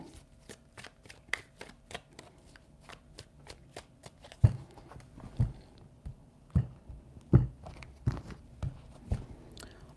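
Tarot cards are shuffled by hand in a quick string of crisp riffling snaps, then slower, heavier taps and slaps as the deck is squared, close up and with no speech.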